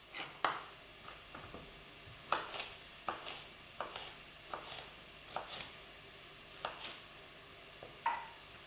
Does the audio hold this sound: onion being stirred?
yes